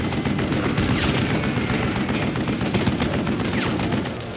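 Rapid overlapping gunfire in the Wild West shooter Call of Juarez Gunslinger during a fight on a train, loud dense bursts of shots and impacts filling the stretch before easing slightly at the end, no speech.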